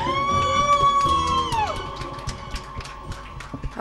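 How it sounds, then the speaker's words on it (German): Wedding guests at a karaoke pub in Stuttgart cheer with a long, loud, sustained whoop, then break into scattered clapping and shouts that fade off. "Applaus bitte!"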